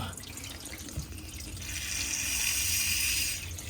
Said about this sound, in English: Okay, so I just loosened up our drain line. And yeah, we're full of water.